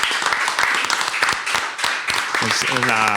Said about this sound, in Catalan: Un aplaudiment al Safareig.